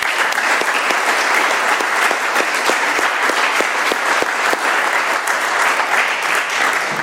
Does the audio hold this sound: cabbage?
no